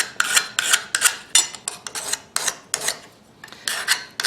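A hand file rasps across a metal knife blank in quick, rhythmic strokes, about a dozen rough scrapes close by with brief pauses between, and no talking.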